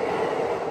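A passing train in Tokyo, a steady rumbling wash of rail noise close by, heard alone without any voices for a brief moment.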